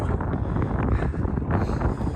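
Steady, heavy wind buffeting the microphone, a continuous low rumble with gusts rising and falling throughout.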